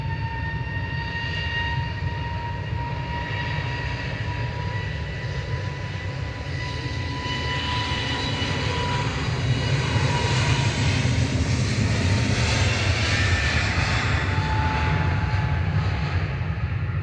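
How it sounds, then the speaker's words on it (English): A Jet2 airliner departs Manchester Airport for Alicante, its jet engines giving a steady, loud roar and whine that swells slightly as the aircraft climbs away, heard alone without talking. "That's Jet2's Sunjay heading off to Alicante with flight 879."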